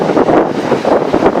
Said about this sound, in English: Windy as shit.